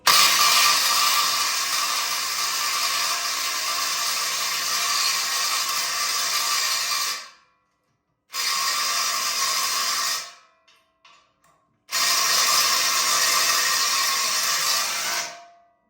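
An impact wrench tightens the pivot bolt on a firewood bagger bucket, sending out long loud steady bursts of rapid hammering, with a few brief pauses and short taps between them.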